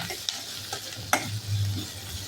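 Chopped onions and soya chunks frying in a pan, a steady close sizzle with a few sharp scraping stirs, with no talking.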